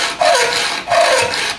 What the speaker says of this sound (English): Let's hacksaw the head off this screw and then we'll see where we're at on the other side too.